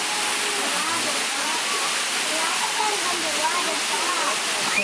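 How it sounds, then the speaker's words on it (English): Waterfall at Hanging Rock roaring as a loud, steady broadband rush of falling water that fills the whole clip, with children's and adults' voices talking and exclaiming over it. "Water comes from the waterfall."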